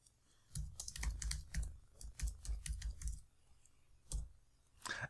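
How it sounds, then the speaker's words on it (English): A computer keyboard clatters with quick bursts of typing, the keystrokes close and crisp. Brief pauses break the bursts, and no voices are heard. "We can now type our text"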